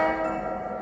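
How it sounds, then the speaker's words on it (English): A model train's steady, sustained whistle signal with layered harmonics holds for under a second, loud and close over a low mechanical rumble. "We're going to go ahead and blow our whistle signal."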